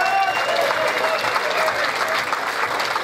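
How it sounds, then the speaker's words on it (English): A crowd at a WCA kickboxing event in a ring applauds two fighters: a steady, dense wash of clapping with faint tonal hall noise underneath and no clear speech. "let's give a big round of applause for both of these warriors."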